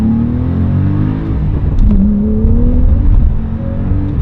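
A 2017 Porsche 911 Carrera GTS accelerates, its engine note loud and close as it climbs steadily in pitch, dips briefly at a gear change, then pulls up again. No voices are heard.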